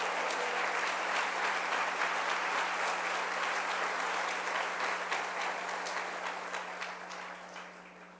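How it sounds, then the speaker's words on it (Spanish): An audience bursts into sustained, dense clapping that holds steady for several seconds, then gradually tapers off, with a faint low hum beneath. "Denle un aplauso al Rey bendito."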